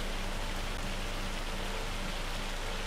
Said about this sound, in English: Oh, that rain is so loud now. It's turned to hail?